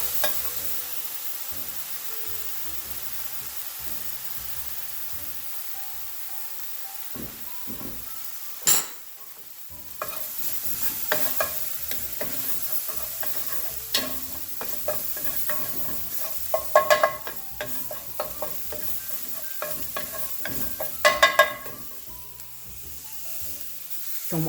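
Garlic, fresh mint and ginger sizzling in a hot pan while being stirred, a steady frying hiss broken by repeated scraping clatters of the utensil against the pan, close and alone.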